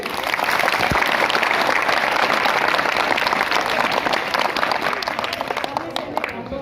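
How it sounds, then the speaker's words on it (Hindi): Schoolchildren give a special rhythmic clap to welcome guests at a school sweater-distribution event, a loud, dense burst of clapping held throughout at close range. "हमारे बच्चे आपके स्वागत के लिए स्पेशल ताली से आपका स्वागत करेंगे"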